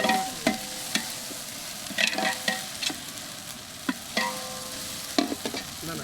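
Onions sauté in a pan with a soft continuous sizzle, broken by sharp metallic clicks and scrapes of stirring at irregular intervals, close by and without talk.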